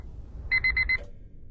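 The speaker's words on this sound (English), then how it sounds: "You miss your alarms." An alarm clock beeps four quick times in a bright, even burst, then stops, leaving faint room noise.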